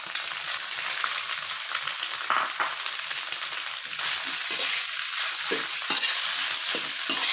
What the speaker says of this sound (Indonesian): Lalu kita aduk-aduk atau kita campurkan seperti ini